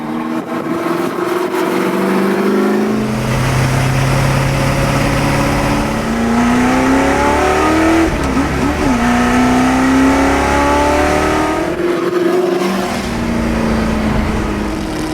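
A 1966 Ford GT40 Continuation race car engine revs hard, rising and falling through several loud climbs and gear changes with a brief lift near the end, close and continuous with no talking.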